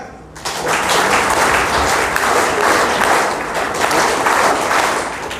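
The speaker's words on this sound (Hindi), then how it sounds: "उनके स्वागत में एक बार त्रिस्तरीय तालियों स्वागत करेंगे" Loud, dense crowd applause at a Samta Sainik Dal Sankalp Divas gathering welcoming an arriving guest, starting abruptly and holding steady as a thick wash of clapping throughout.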